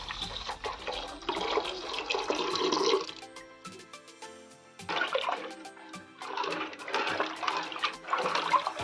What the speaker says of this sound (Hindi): उसमें हम जो 3 लीटर का दूध रखा हुआ पूरा ऐड कर देंगे इसमें